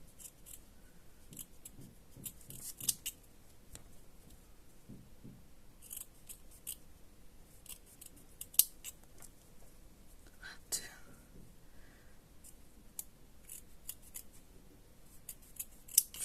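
Scissors snip through cotton pads in a string of quiet, crisp cuts, close by and sporadic, with soft rustling of the pads between snips and no talking.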